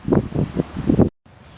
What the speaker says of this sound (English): it sure is windy too